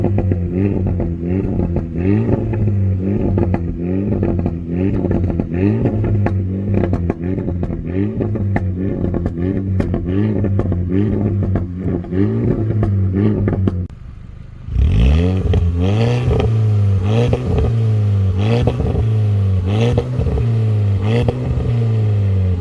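A Leon Cupra R and a Renault Megane RS Trophy rev their engines at a Slovak drag race. Loud, rhythmic, repeated throttle blips rise and fall, a brief pause, then a second round of revving continues.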